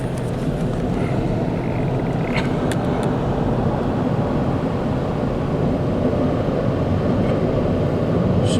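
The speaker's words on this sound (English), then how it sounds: "Oh, the machine's come back now." A PDQ Laserwash 360plus touchless car wash machine with swing-air dryers running, heard from inside a car as a loud, steady roaring rush of water spray and air that never lets up.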